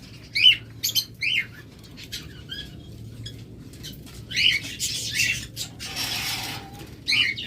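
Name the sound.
white ringneck parakeets squawking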